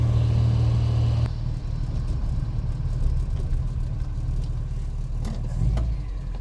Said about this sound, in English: You can hear that supercharger starting to whine, which is lovely.